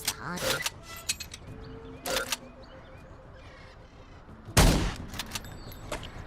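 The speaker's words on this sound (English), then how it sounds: "He snipes Alonso out of his tree in an unbelievable shot." A sniper rifle shot in the artillery game Worms WMD, one loud sharp blast near the end, with earlier shorter bangs and game effects, and a voice talking over parts of it.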